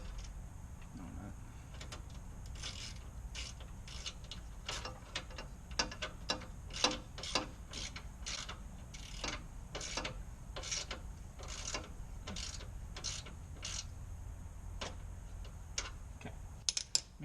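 Ratchet clicking in rapid bursts while bolts are tightened on a Mazdaspeed3 during a Hella horn install, fairly close, with a low hum beneath and no talk.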